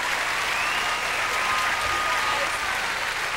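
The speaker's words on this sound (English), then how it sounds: "Give them a big hand." Steady, loud applause from a church concert crowd cheering on a group of kids, a thick wash of many hands clapping continuously with occasional voices buried underneath.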